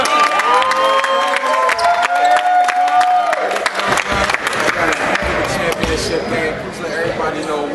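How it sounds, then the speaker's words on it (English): A crowd at a New Jersey women's basketball team event claps and cheers loudly, mixed with shouts and excited voices, while people talk over the noise. "clap it up"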